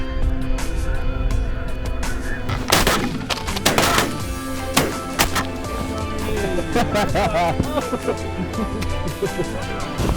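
Shotgun blasts fired at snow geese during a spring hunt in South Dakota ring out in several loud reports over a few seconds, with hunters talking and calling amid the outdoor noise.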